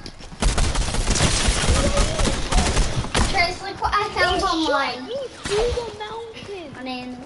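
Heavy gunfire in a video game, with dense bursts and volleys through the first half, then quieter shots under several voices talking excitedly over game audio.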